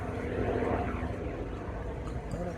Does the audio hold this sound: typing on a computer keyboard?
no